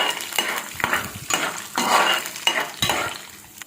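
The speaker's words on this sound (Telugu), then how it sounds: "ప్యాన్ ఆయిల్ హీట్ ఎక్కింది కదా, దీంట్లో మనం ముందుగా తీసి పెట్టుకున్న శనగపప్పు, పల్లీలు వేసి ఫ్రై చేసుకోవాలి" Chana dal and peanuts fry in hot oil in a pan, a steady close sizzle broken by several scraping stirs of a spatula against the metal.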